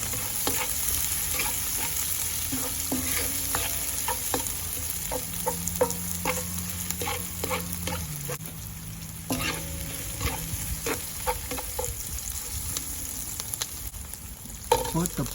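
Pork chops being stir-fried with onion for salt and pepper pork, with a quiet continuous sizzle under repeated clinks and scrapes of a utensil stirring in the pan.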